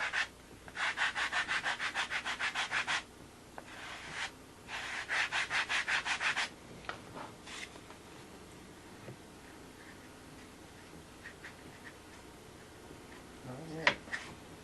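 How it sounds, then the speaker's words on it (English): A sanding block rubbed back and forth on wood in two bursts of fast, regular strokes, close and fairly loud, then quieter scraping and handling sounds with a sharp knock near the end. "Now just block sand it in."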